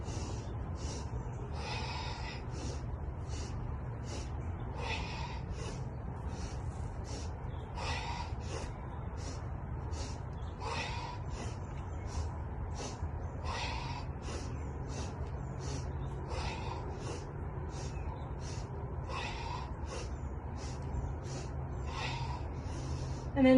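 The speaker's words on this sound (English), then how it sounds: "Inhale, inhale, inhale, exhale. Keep going on your own breath." Repeated breaths during a guided breathing exercise, short sharp inhales and exhales in an even rhythm, close and fairly quiet, with no talking.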